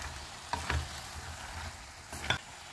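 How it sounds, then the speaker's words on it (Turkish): Okra and boiled chickpeas are stirred in a pot, with a soft sizzle underneath and a few brief scraping knocks of the spoon. "Ve karıştırıyorum"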